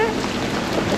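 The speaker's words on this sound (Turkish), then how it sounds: "Kafam kadar dolular böyle." Large hailstones pound a sailboat during a South Atlantic storm in the Roaring Forties, making a dense, loud, continuous drumming roar.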